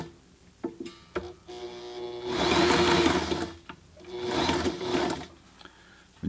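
A Sailrite Ultrafeed LSZ1 sewing machine stitches fabric in two loud whirring bursts, separated by lighter clicks and handling noises close by.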